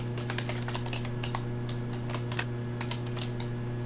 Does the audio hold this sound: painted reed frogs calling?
no